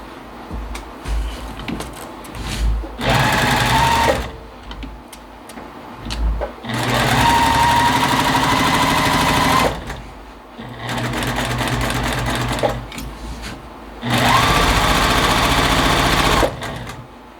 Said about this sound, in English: now I will just sew them together using a 1/4 inch seam